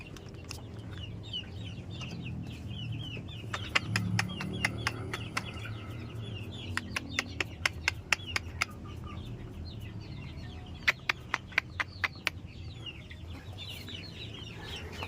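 Free-range village chickens in a coop, clucking softly and continuously, with scattered sharp clicks and taps nearby and no talking.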